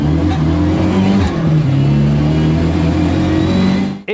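A Mk2 Ford Escort fitted with a Mk3 Focus RS 2.3 EcoBoost engine making around 350–380 horsepower accelerates hard, its loud, close four-cylinder drone climbing through the revs before cutting off abruptly at the end.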